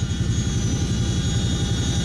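A Chinook military helicopter makes a loud, close, continuous rotor throb with a fast, even low beat and a steady engine whine above it.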